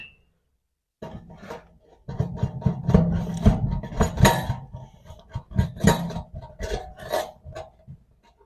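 Plastic kitchen sink strainer nut tightened by hand, close-up scraping and clicking of threaded plastic parts in irregular grinding bursts, with a few sharper knocks.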